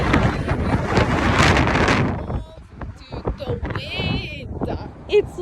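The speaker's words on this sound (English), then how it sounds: "It's windy." Heavy wind buffets the microphone with loud rumbling gusts, easing off partway through as faint high sounds and voices come through.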